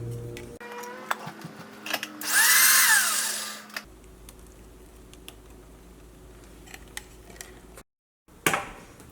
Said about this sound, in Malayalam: അതിനകത്ത് കുറച്ച് പഴം അടിയാണ്ട് കിടക്കണ്ട, ഒന്നുകൂടി ഒന്ന് കറക്കട്ടെ കേട്ടോ